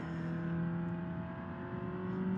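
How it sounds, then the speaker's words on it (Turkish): A BeamNG.drive game car engine, a 1.4 Fiat Egea, drones loudly at a steady high pitch, a constant revving whine with no other sounds. "Şu an patlayacak gibi bağırıyor araba."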